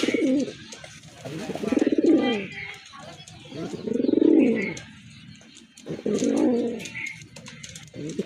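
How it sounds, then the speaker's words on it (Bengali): Large pigeons coo close by in deep, throaty bursts that repeat every couple of seconds, with faint chirps and shuffling between calls. "এটাও কিন্তু অনেক বড় সাইজের কবুতর"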